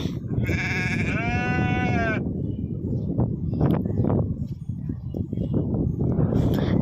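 A sheep bleats loudly and close by in one long, wavering call near the start, with rustling farmyard noise and a few softer animal sounds continuing after it.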